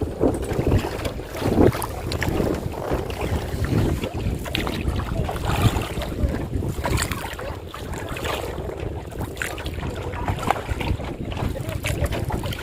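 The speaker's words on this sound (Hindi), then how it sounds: "हवा की आवाज़ है और कुछ भी नहीं।" Gusty wind buffets the microphone over open sea off Daman from a boat, a rough, uneven rush with faint lapping and creaking beneath, no voices.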